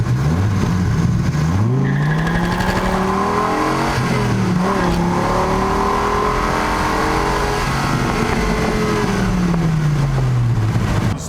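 A Dodge Viper with 121K miles on it on a Saturday night cruise: loud, close engine rising and falling through revs as it accelerates, with steady tire and road roar underneath and no talking.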